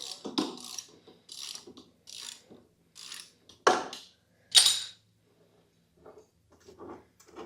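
Ratchet wrench working to remove the blade from a Toro front-wheel-drive mower, several separate bursts of quick clicking at close range with short pauses between strokes.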